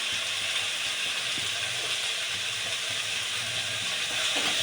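Tomatoes sauté in a pan for Tamil-style prawn thokku, giving a steady, even sizzling hiss that runs unbroken throughout at moderate loudness with no voices.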